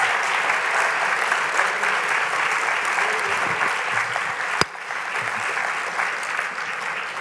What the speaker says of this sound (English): please continue your applause